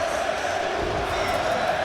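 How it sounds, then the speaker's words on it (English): A loud, dense crowd roars continuously in a large indoor esports arena during a Counter-Strike major match, a steady wall of cheering and shouting. "The crowd drowning this game."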